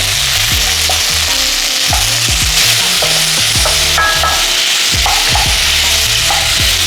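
Bell pepper and wood ear mushroom sizzle and fry in a hot pan for a vegan sweet and sour dish, a loud steady crackle with repeated scraping stirs and clinks of a utensil throughout.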